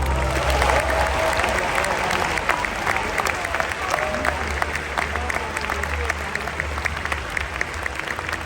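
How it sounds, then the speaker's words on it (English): Large audience applauding competitors at the Pokemon World Championships in London, a loud sustained roar of clapping with crowd noise and a low hum underneath, steady for the whole stretch. "Please give yourselves a big round of applause."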